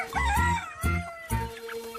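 Chickens clucking in a poultry shop in Rahim Yar Khan: three short, close bursts of clucking at a steady rhythm, with no voices.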